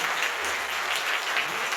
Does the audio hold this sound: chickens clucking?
no